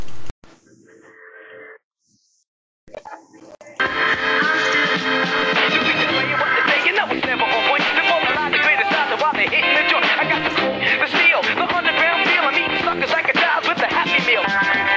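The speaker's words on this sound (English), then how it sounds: "So these two songs have kind of been synchronized and played on top of each other" A hip-hop track synchronized and layered with a disco piece plays as a dense, loud mix after a few seconds of sparse, quiet intro sounds and a short gap.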